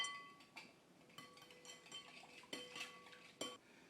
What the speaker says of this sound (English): I'm going to mix up the marinade.